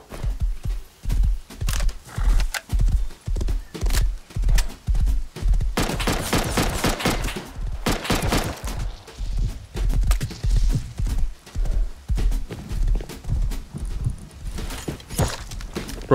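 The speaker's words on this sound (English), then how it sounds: "Give me that horse." A horse in a video game clip-clops steadily at a rhythmic gallop with a whinny, loud and close, mixed with bursts of gunfire in a multiplayer shooter match.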